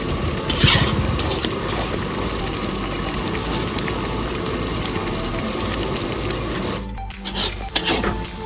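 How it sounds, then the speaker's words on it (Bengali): Spice paste with prawns frying and being stirred in a pan, a steady broadband sizzle with scraping strokes throughout, fairly loud and close, with a brief dip and a few clattering bumps near the end. "মশলা কষানো চলছে, তো এই অবস্থায় চিংড়ি মাছগুলো দিয়ে আরও ভালো করে কষিয়ে নেব।"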